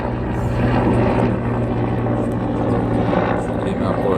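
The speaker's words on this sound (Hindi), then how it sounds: "मैं आपको हेलीकॉप्टर बता भी देता हूँ," A helicopter flies overhead with a loud, steady rotor thrum and engine drone that stays close and continuous throughout.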